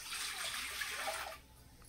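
Water poured into a pot on a village stove while cooking kambu koozh, a steady splashing pour for about a second and a half that then stops, leaving quiet room tone.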